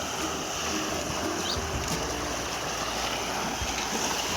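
Floodwater after heavy rain in Banaskantha rushing through a stream, a steady broad roar of churning water that holds at an even level from start to finish, with no voices over it.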